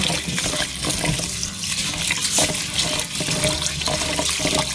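First-class sticky rice is rinsed under a running tap in a sink, with loud, close gushing water and sloshing bursts as the grains are stirred by hand, and no voices over the flow.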